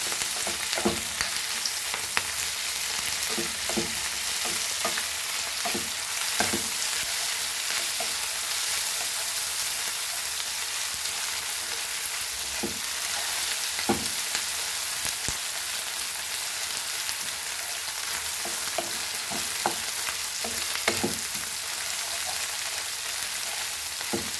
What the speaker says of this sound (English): Now we'll add our ginger garlic and fry this nicely till the raw smells go off.